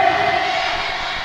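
Crowd cheering at the Tasik Sedekah Day gathering, a loud, sustained wash of voices that holds steady across the moment without pauses.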